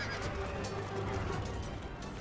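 A horse whinnies amid battlefield noise in the strategy game Empire Total War, a drawn-out neigh over a steady rumble of fighting and hooves, no speech.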